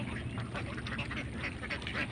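A flock of ducks on a duck farm quacks in a dense, overlapping chorus, a continuous busy clamor of many birds at moderate distance with no talk.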